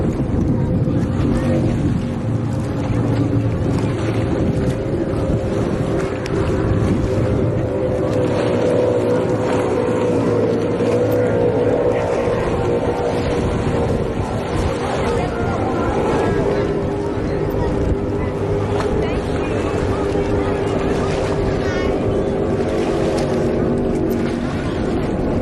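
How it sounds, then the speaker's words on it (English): Racing powerboat drones loudly down a river straight during a race, a sustained heavy engine roar with wind buffeting the microphone and a commentator talking over it throughout. "Team Maritimo, Andrew's boat, thundering down the main straight."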